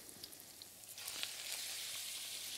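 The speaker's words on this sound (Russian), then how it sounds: "Вот как красиво жарится мясо." Cold minced meat sizzles steadily in a hot frying pan, a continuous close crackle and hiss that grows fuller partway through, with no voices.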